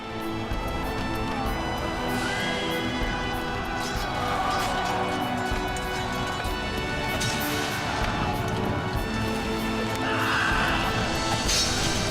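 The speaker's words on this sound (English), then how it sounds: "The smell of the elephants made the Roman horses panic and bolt." Horses whinny and neigh in panic amid a loud ancient battle, shrill cries rising repeatedly over a dense roar of hooves, crashes and clamor.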